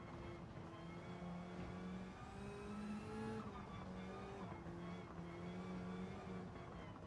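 A race car engine in Gran Turismo 7 drones steadily, its pitch rising and falling through gear changes, constant and fairly close with no talk over it.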